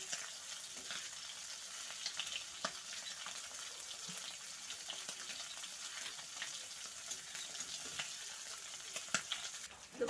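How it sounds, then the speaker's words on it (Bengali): Morola fish, a batch of small fish crowded together in one pan, fry in oil for a mustard-style recipe, giving a steady, even sizzle with crackles and pops scattered through it and no voices. "তো মাছগুলো ভাজা হয়ে গেছে"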